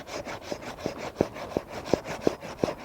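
Handsaw cutting through a walnut tree branch for grafting, a steady back-and-forth rasp with about eight regular woody strokes, close and clear with no talk.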